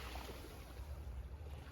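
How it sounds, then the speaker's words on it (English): Ocean waves at the shore, a faint, steady wash of surf with soft low rumbling and some wind buffeting the microphone, continuous and without voices. "once I start hearing the waves pretty much distract me"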